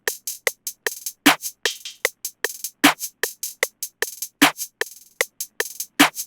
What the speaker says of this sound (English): Basically, it's just a two-step hi-hat pattern with a ton of rolls.